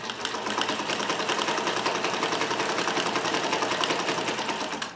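A Necchi Supernova Ultra freearm sewing machine stitches zigzag in one steady, close run, its rapid needle beat pulsing evenly for the whole stretch with no talking.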